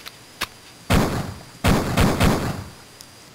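Pistol shots ring out in Duke Nukem 3D: a single sharp crack, then several louder blasts in an uneven rhythm, each with a short decaying tail, and a faint final pop near the end.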